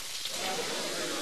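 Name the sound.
sizzling entree searing at the table, Applebee's ad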